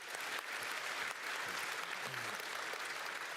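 Steady applause from a convention crowd fills the scene, a continuous wash of clapping heard from some distance.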